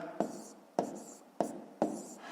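Pen on paper writing digits by hand while working out long division for a fifth-grade exercise, four quick evenly spaced scratchy strokes, close and quiet, with no talking.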